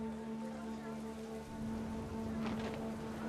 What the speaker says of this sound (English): It's starting to rain.